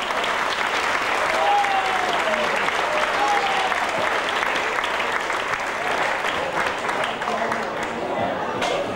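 A large crowd at an anniversary celebration of a mountain herdsmen's brotherhood in Vitznau applauds steadily and loudly throughout, a dense continuous wash of clapping with a brief whistle-like tone early on.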